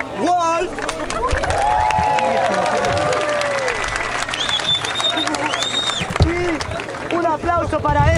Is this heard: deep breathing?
no